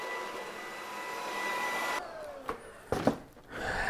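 A BISSELL ICONpet cordless stick vacuum with tangle-free brush runs with a steady broadband whir and faint tonal hum, then dips as it moves, with a few brief knocks and rattles near the end.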